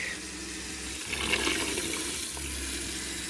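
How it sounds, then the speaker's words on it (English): Water rushes steadily as an RV water tank is flushed out at a campsite full-hookup site, a continuous hiss and gush that swells briefly in the middle, close by and without talk. "I am flushing out my water tank."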